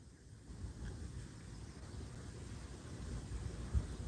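Wind outdoors by a lake in northern Michigan, a low steady rumble of moving air buffeting the microphone, fairly quiet and continuous with slight gusts.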